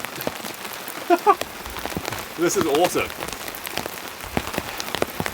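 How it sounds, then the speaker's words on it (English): Heavy rain drumming on a van and tarp during a storm while camping, a dense steady patter throughout, with someone speaking briefly over it. "The rain is chucking down."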